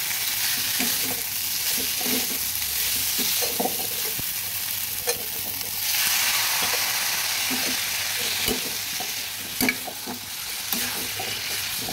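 Potatoes and long beans fry with spices in a pan, a constant hiss of sizzling oil broken by repeated close scrapes and knocks of a spatula as the mixture is stirred.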